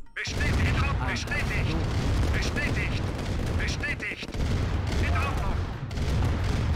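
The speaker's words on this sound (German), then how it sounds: "Deswegen bewege ich die Panzer auch, damit sie auf alle anfangen zu schießen." Tanks open fire in the strategy game C&C: Red Alert Remastered, a dense barrage of loud booms and rapid gunfire with short unit voice responses mixed in, continuous battle noise with someone talking underneath.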